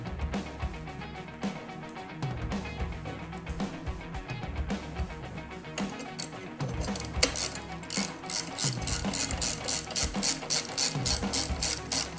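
A ratchet wrench tightens bolts on a 2021 Yamaha YFZ450R quad during a build, its rapid pawl clicks running close and loud in repeated bursts that quicken toward the end, with no talk.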